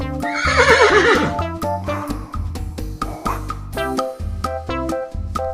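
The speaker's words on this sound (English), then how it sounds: "It's a horse." A horse lets out a loud, quavering whinny near the start, followed by rhythmic clip-clop hoof beats woven into an upbeat children's music track.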